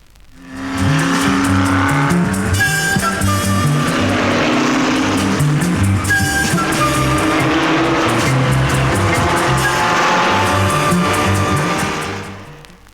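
A 1969 Mini 1300 GT drives hard, its engine note rising and falling through revs and gear changes, with brief tire squeals, loud and close for about twelve seconds with no talk.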